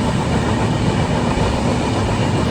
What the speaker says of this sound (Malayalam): ലോങ്സ്റ്റ് റണ്ണിങ് ഡെയിലി എക്സ്പ്രസ് ആണിത്.